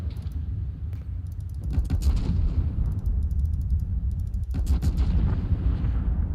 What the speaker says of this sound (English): Oh, that gun sound. 510 millimeter guns.